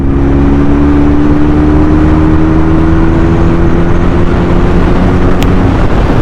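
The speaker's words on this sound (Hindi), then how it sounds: "अगर मैं यहीं से इसका कान मरोड़ूं वो देखना भाई पिकअप करेगी" A QJ Motor SRK 400 twin-cylinder naked motorcycle pulls in sixth gear from about 50 km/h, a steady, loud engine drone with a slowly rising pitch, heavy wind rush over the microphone throughout.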